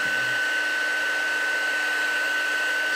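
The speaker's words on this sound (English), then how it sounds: "I'm really digging this little Wagner handheld heat gun" A small Wagner handheld heat gun blows steadily up close, a constant airy whoosh with a thin tonal whine running through it, alone with no talking.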